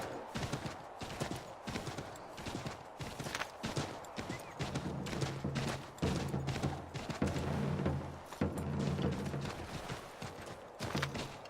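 Rapid, rhythmic hoofbeats of a galloping horse in the video game Assassin's Creed 3, steady clip-clop repeating throughout at moderate loudness, with a faint low tonal hum underneath.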